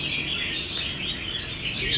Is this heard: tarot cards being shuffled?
no